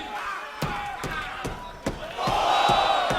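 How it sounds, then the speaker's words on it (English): Wrestling arena crowd at a TNA Victory Road women's championship match chants along with the referee's count, rhythmic loud shouts and slaps repeating about every half second before the crowd noise swells into a sustained roar. "Crowd here at Victory Road, counting along with the referee, Slick Johnson"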